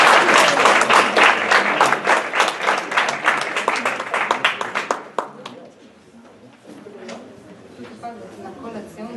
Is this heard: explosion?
no